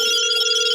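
A telephone rings loudly and steadily for a call-in on a podcast, a single continuous electronic ring with no talking.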